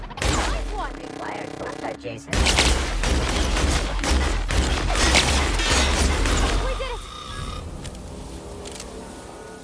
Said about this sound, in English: looks like this is going to be our first test of our plasma weapon